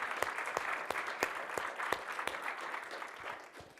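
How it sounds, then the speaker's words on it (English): Applause from a conference audience for student presenters at a developer event, many hands clapping steadily at a moderate distance with sharp individual claps standing out, tapering slightly toward the end. "a quick round of applause for our students who've all done amazing work over today"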